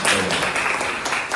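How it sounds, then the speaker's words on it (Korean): Congregation applause inside a church at a founding worship service, a brief burst of many hands clapping together close by, rising quickly and staying full for the whole moment. "박수 한번 크게 해주십니다"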